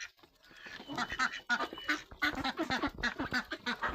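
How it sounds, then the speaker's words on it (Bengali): Ducks quack in quick, overlapping bursts while feeding nearby on a rural homestead, the calls fairly close and busy, with no talk over them. "হাঁস।"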